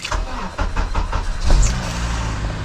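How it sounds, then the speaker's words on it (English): A rebuilt Acura TSX CL9 engine cold-starting: a short crank then a catch into a loud, steady idle rumble, with faint talk over it. "let's get this cold start going"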